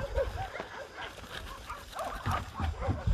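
Several dogs play together at a shelter, with scuffling, panting and short yips and whimpers at close range, busy and uneven, rising into louder bursts toward the end.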